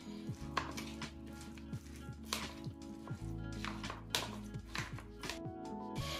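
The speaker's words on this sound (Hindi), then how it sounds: "अब जो है इन सारी वेजिटेबल्स को दही के साथ अच्छे से मिक्स कर लेंगे।" Vegetables being mixed with curd in a bowl for a bread stuffing, soft spoon clinks, taps and squishy scrapes repeating at a quiet, close level over faint background music.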